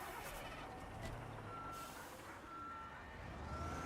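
A Scania truck reversing in the construction game Construction Sim 22, its steady repeating reverse beeps sounding over a constant engine drone with a short hiss like an air brake, fairly quiet and with no talk.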